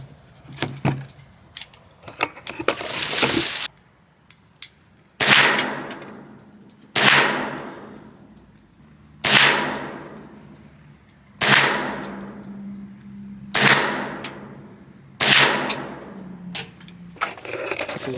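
Shotgun firing big slug shells outdoors, about seven loud blasts at steady intervals, each a sharp crack with a long decaying echo, preceded by some handling clatter.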